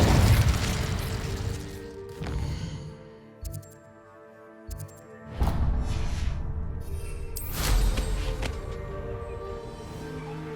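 The Incendio fire spell cast in Hogwarts Legacy, heard as a few heavy booming bursts spread across the stretch, each with a loud whooshing flare that decays into a resonant ringing tail.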